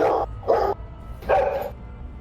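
A dog barks three times in quick succession, loud and close, each bark short with a gap between and the last a little longer, with no talk over it.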